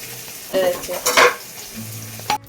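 Ground poppy seed paste fries in oil in a wok for spicy aloo posto, a soft sizzle with a few brief scraping stirs and clinks, fairly close and steady, no talking.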